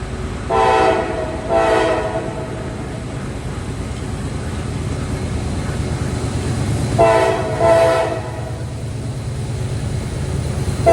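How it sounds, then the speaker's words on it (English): A loaded CSX grain train led by a CM44AC locomotive rolls past, two pairs of loud horn blasts ringing out near the start and again later over a steady rumble of rail cars. "It is a loaded grain train that comes from Fulton Yard, Richmond, Virginia, and goes to Portsmouth, Virginia."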